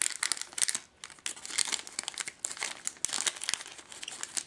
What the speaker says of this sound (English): I'm just going to rip it open here.